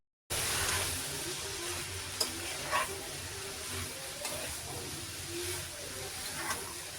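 Cut radish and kohlrabi fry in a pan with crab, giving a steady close sizzle and hiss with occasional soft stirring scrapes.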